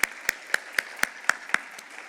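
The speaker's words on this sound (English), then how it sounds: "let's have another round of applause for Emily" A lone pair of hands claps steadily, about four claps per second and fairly faint, as an audience at a business leadership event offers another round of applause.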